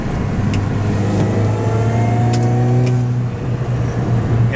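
A 2006 Mini Cooper S engine revs up under acceleration on a test drive, heard from inside the cabin: a steady, rising mid-pitched drone with harmonics climbing together over several seconds, loud and continuous with no talking.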